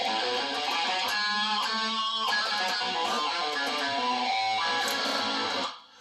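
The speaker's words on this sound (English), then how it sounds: "a regular major scale sounds like this" A guitar plays a steady run of single notes climbing a major scale, with sustained ringing tones that fade out at the end; no one speaks.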